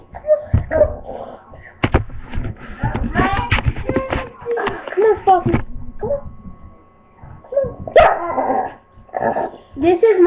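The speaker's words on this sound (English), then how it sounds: "This is my dog." A dog barks, yips and growls in short excited bursts close by, mixed in with people talking and calling out over the top.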